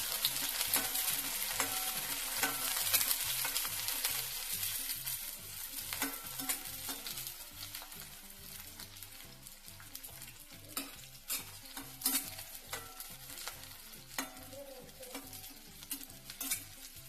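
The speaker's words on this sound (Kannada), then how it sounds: "ಹಾಕಿ ಚೆನ್ನಾಗಿ ಕೆಂಪಾಗೋನ್ನ ಹುರಿಬೇಕು ಅವನು" About ten green chillies roast in a pan until reddish for North Karnataka-style gongura (pundi) chutney, a steady soft sizzle under repeated rhythmic stirring scrapes, close and fairly quiet, with no voices.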